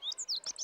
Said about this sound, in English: That one is actually a bunting.